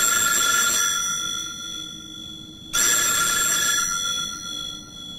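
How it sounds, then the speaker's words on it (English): A telephone rings in two loud bursts of bright electronic trilling with a short gap between them, set against a quiet room with no talking. "When the phone finally rings"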